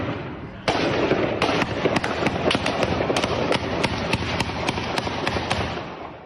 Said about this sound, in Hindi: चर्च की तरफ भागते आतंकवादियों ने किस तरीके से सरेराह फायरिंग की